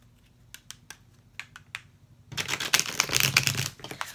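A few light tarot card flicks and riffles, then a longer, louder burst of tarot cards being shuffled close by, crisp and rapid.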